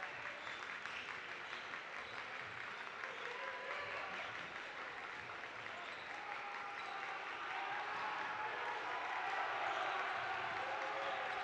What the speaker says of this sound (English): Getting his Harrison crowd a little rowdy right now.